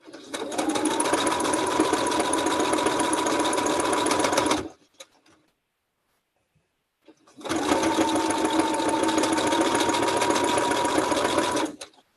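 A sewing machine stitches pieces of a quilt in two long continuous runs of steady, fast whirring, separated by a short pause of near silence. It is close and loud.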